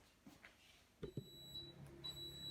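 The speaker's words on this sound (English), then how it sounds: "you can hear that the oven's just reached temperature with that beep" Faint electronic beeps sound twice from an oven reaching temperature while baking challah, a thin high tone held briefly each time, over quiet room noise and a low hum.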